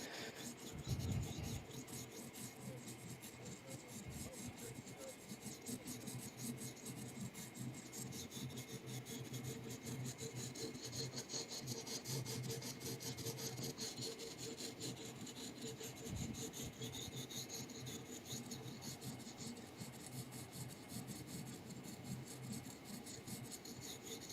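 A knife blade is worked with 80 grit abrasive, giving a continuous scraping rasp that runs steadily from start to finish without pause.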